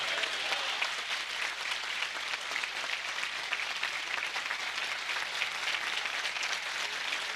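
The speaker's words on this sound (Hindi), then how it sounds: "सारे मिलकर मुर्दों में से जी उठा मसीह के लिए जोरदार ताली" Church congregation applauding during an Easter sermon, steady, dense clapping that carries on evenly for several seconds without a break.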